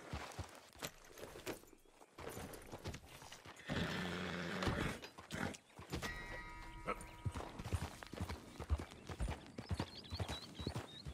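Horse hooves clip-clopping in Red Dead Redemption 2, a steady walking rhythm mixed with other game sounds and brief louder bursts, moderately close.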